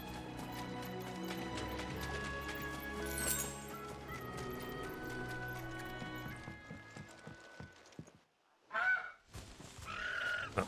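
Chocobos in the video game Final Fantasy XVI, honking bird-like squawks and running clip-clop footfalls under a game music bed, ending with a couple of sharp, loud calls after a brief pause.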